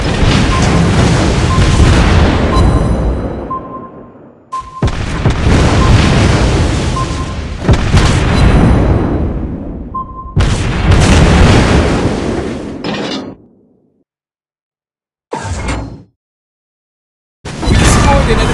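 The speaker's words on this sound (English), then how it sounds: "We destroyed an enemy ship!" An enemy ship blown up in World of Warships Blitz: loud, booming blasts in several long roaring bursts, cut by silences, with short game voice announcements.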